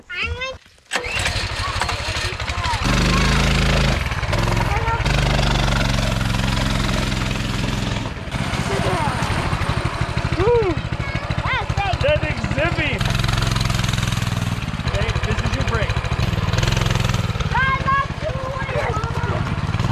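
A motorcycle engine starts and runs loud and close, revving and rumbling continuously, with people's voices faintly under the roar.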